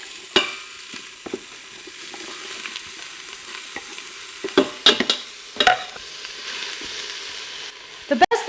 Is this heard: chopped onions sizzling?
yes